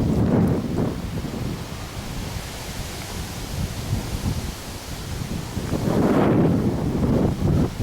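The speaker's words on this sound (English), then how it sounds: "Quite breezy in Glenartney today." Breezy September wind outdoors at a remote country church in Glenartney, loud gusty buffeting across the microphone with rustling, surging strongest at the start and end.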